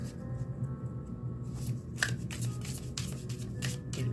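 Tarot cards shuffle by hand in a close, dry flurry of riffling and flicking, a few distinct snaps among the rustle over a low room hum.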